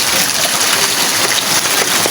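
Heavy rain pours steadily in Pampanga as strong winds blow, a dense continuous wash of water and gusts that stays loud and close throughout without pause.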